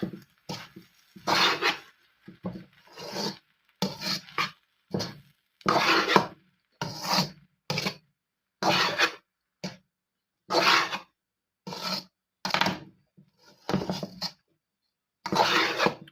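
Special fried rice with chopped green spring onion tops being stirred and tossed in a pan, a steady series of close scraping, rasping strokes of a utensil against the pan, separated by short pauses.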